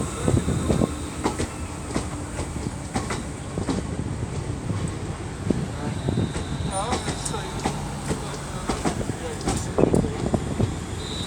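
A passenger train passes through Crewe station at moderate distance, its wheels giving a continuous rumble with repeated clickety-clack beats and occasional squeals and thumps throughout.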